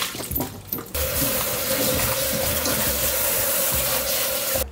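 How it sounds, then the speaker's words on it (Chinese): Running tap water pours steadily and close into a sink while salted pickled vegetables are rinsed, a continuous splashing rush with faint handling clatter underneath. "咱们腌好的洗一下"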